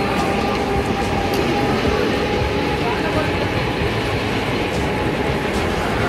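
A Mumbai local train bound for Khopoli, heard as a loud, steady rail rumble with a continuous roar of wheels and carriages throughout, close by and unbroken.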